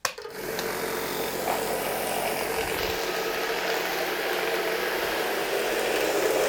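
Vibratory tumbler bowl derusting metal parts, switched on and settling into a steady, loud, continuous rattling hum with no pauses.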